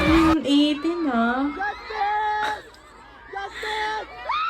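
Fans at an SB19 meet-up scream and shriek in high, wavering voices, close and loud, rising and falling in several bursts with excited talk mixed in.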